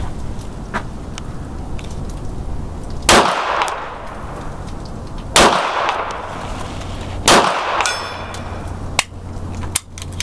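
A Heckler & Koch P7 pistol fires single shots at targets, sharp loud cracks spaced a couple of seconds apart, each followed by a ringing metallic clang of steel plates, with a couple of faint extra pops in between.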